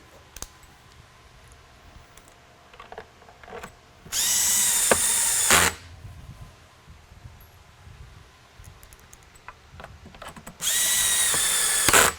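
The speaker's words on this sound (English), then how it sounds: "locking screws will go back into the bottom for putting the domes in nice and snugly" A power drill drives locking screws into the base of a Liberty II mini lightbar, two loud sustained whirring bursts about a second and a half each, close up, with light handling clicks between them.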